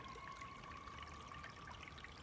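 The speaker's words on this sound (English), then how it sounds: "you can see how peaceful it is for a little creek, and the sound of the waters" A little creek in autumn woods trickles and burbles softly and steadily, faint and without interruption, with a thin high whine running through it.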